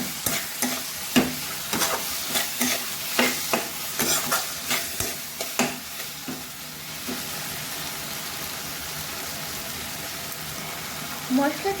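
Chopped tomato and green chili frying with masala in a pan for Bengali duck egg curry, stirred with repeated scraping strokes over a steady close sizzle; a voice speaks briefly.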